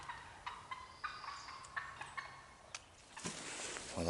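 Wild turkeys gobble in a Georgia hunting setting, several short bursts at varied distances, some faint and far off and others closer, with a louder rush of rustling near the end.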